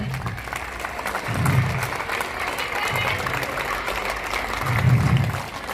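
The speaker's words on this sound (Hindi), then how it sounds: "तालियां रुकनी नहीं चाहिए।" Applause from an audience in a marquee pavilion at a DAV School event in Narwana, a steady crowd clapping throughout with two louder swells, a low musical or drum-like pulse repeating beneath it.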